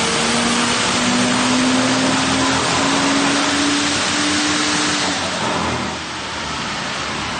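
A tuned FPV FG F6 ute engine on a dyno, roaring loud and steady at high revs with a rising tone, then easing off near the end.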